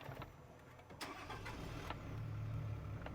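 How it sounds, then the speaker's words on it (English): Toyota Land Cruiser LC300 engine starting: a brief crank, then a low, faint rumble that settles into a quiet idle, heard from nearby with no voices. "just to simply start the car"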